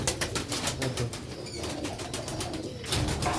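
Rooftop pigeons in Sialkot coo in soft, rhythmic repeated throaty pulses, fairly close and continuous over a low background, without speech.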